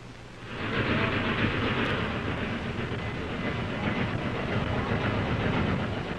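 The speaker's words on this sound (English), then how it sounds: "What you're seeing now is a familiar sight, a train coming into the station." A train pulls into a station with a steady, loud rumble of wheels and carriages that swells early and holds, played back from Ampex tape recording equipment; no voices are heard.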